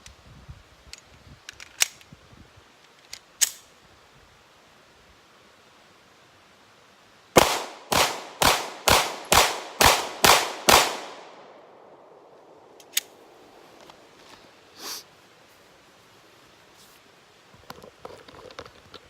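Eight sharp, loud gunshots from a Smith & Wesson M&P 2.0 Compact pistol fire in quick, even succession at an outdoor range, with faint scattered clicks and handling noises before and after.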